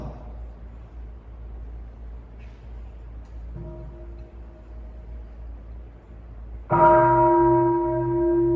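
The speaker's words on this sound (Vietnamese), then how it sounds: "Đại chúng khi nghe tiếng chuông xin nhất tâm thực tập văn quán." A single strike of a Buddhist monastery bell at Plum Village rings out loud and near after a long quiet stretch, its deep metallic tone sustaining and slowly fading.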